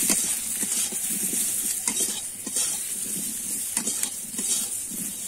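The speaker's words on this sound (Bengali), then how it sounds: "পরিমাণ মতো লবণ আর পরিমাণ মতো হলুদ দিয়ে আমি একটু আমার নাড়াচাড়া করে নেব" Mango pieces tossed with salt and turmeric are stirred in a pan for a Bengali mango oil pickle, with a continuous loud scraping and sizzling and occasional utensil knocks, and no voices.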